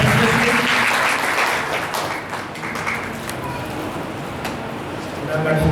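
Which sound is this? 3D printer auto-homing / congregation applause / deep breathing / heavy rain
congregation applause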